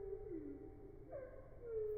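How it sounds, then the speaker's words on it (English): Slow, drawn-out low whistling tones that glide and bend, like birdsong stretched and deepened, steady and fairly quiet over a soft background hiss. "if you record birds' song in slow motion, it sounds like this."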